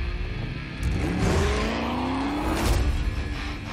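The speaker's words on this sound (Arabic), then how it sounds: "سيارات شرطة وحسة جي تي اي صارت" Police cars in a Call of Duty zombies map trailer rev their engines and screech their tires. A rising whine sweeps across over a rumbling roar, and a sharp skid breaks through near the end.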